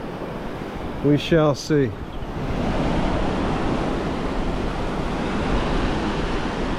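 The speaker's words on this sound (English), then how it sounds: "Good wind gust coming in now." Wind gusts buffet a camera microphone on a beach at Cape San Blas, Florida, a steady roaring rush that swells and keeps going after someone speaks briefly near the start.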